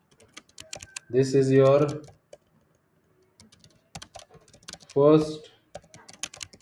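Computer keyboard typing, a run of quick key clicks while a coding tutorial is written, heard close and fairly quiet between two short stretches of speech.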